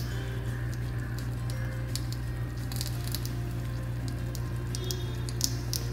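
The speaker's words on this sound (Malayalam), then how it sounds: "ഇനി നമുക്കതിലേക്ക് കുറച്ച് ഓയിൽ ഒഴിച്ചു കൊടുക്കാം." Oil poured into a hot frying pan on the stove before fish goes in, giving a steady, close hiss and patter with no talk.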